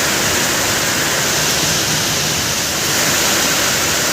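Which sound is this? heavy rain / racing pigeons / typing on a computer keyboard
heavy rain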